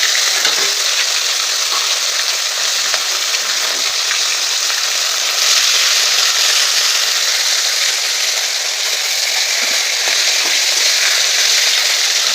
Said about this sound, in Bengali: আর বাকি মাছগুলো এখন আমরা আবার তেলে দিয়ে দেবো ভাজার জন্য